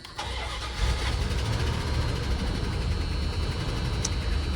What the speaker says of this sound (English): Let's go ahead and just see if she wants to start up.